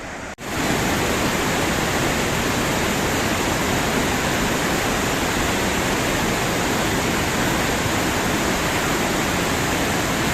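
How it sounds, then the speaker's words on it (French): A powerful waterfall in Slovakia's Velká Studená dolina roars steadily and loudly, a dense continuous rush of crashing water filling the whole stretch. "J'arrive pas à croire que c'était la même cascade hier"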